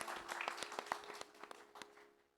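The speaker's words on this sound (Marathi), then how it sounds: "तर जोरदार टाळ्या तिच्यासाठी झाल्या पाहिजे" An audience at a music concert of Hindi and Marathi songs gives a short burst of scattered clapping, a dozen or so distinct claps that thin out and fade within two seconds, fairly faint.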